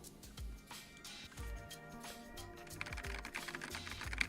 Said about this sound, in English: It sounds springy. It's still a good keyboard.